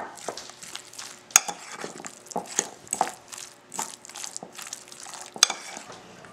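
Guacamole being mixed in a bowl, with irregular wet squelches and sharp utensil scrapes and taps against the bowl, close and moderately quiet, no voices.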